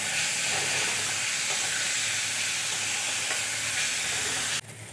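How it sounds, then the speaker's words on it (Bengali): Sliced onions with salt sizzle steadily in a hot pan, a loud continuous frying hiss that cuts off abruptly near the end. "পেঁয়াজটা খুব ভালো মতো ভাজা হয়ে যাবে আর খুব তাড়াতাড়ি নরম হয়ে যাবে পেঁয়াজ।"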